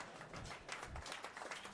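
An audience at a Utah speech by former Vice President Mike Pence claps in a loose, scattered patter of hand claps, moderately loud, with no talk over it.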